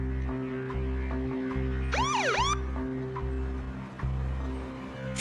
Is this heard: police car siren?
yes